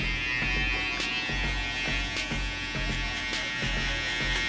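An Oster Fast Feed hair clipper buzzes steadily and close during a haircut, with small bumps and clicks as the blade runs through stubble.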